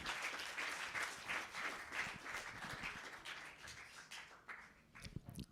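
An audience applauds after a speech at a media launch, a steady wash of many hands clapping that fades slightly toward the end with a few louder individual claps.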